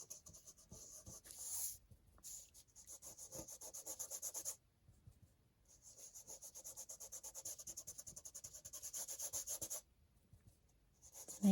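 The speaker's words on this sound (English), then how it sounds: "So just smoothing my finger around the edges in case I have any excess." Finger rubbing and smoothing along the edges of a handmade craft journal cover, giving soft, close, continuous scratchy friction in long strokes with short pauses between passes.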